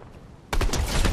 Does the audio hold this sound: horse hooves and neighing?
no